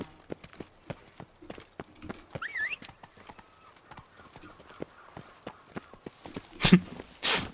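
A gold-plated horse walks in The Witcher III in Beauclair, its hooves making a steady, close clip-clop rhythm, with a brief whinny-like squeal partway through and two sharp bursts near the end.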